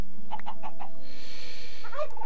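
Chickens in a video game give a short run of four rhythmic clucks, followed by a brighter sustained tone and a few more clucks toward the end, heard alone without speech.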